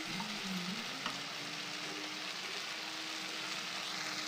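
Green peas chutney with tomatoes and tamarind sautéing in a pan, a soft, steady sizzle with a faint hum and occasional light clicks, quiet and continuous, no voices.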